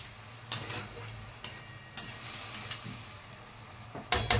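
Carrot halwa with almonds cooks in a pan, giving a soft, steady sizzle with several brief scraping stirs and a sharper clatter near the end, close by and with no talking.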